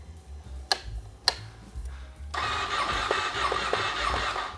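A Ducati Panigale motorcycle engine is cranked cold to warm it up: a few sharp starter clicks, then the engine catches halfway through and idles loudly and steadily to the end.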